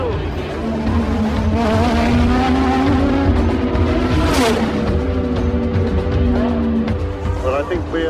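Ayrton Senna's Formula One race car on a dangerous stretch of circuit, its engine wailing loud and close with shifting pitch, a sharp burst midway, while a commentator talks over it throughout.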